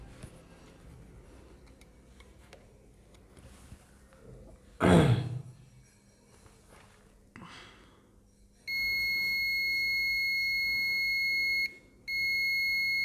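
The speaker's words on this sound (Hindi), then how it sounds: "अब इसको बीप की रेंज पे भी आपको चेक करवा देता हूँ मैं।" A multimeter set to its continuity beep range sounds a steady high tone, held for about three seconds, then cut off and started again, while a dead Mediatek mobile phone board is checked. Before the tone there are quiet handling noises and one louder bump.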